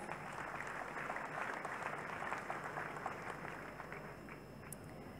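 Church audience clapping for Jesus Christ, a dense, steady patter of many hands at moderate distance that continues throughout and eases slightly toward the end.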